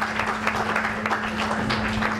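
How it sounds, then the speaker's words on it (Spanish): Audience applause after a youth debate on compulsory military service, a steady patter of clapping held at even loudness throughout with a faint constant hum beneath. "Un fuerte aplauso, por favor."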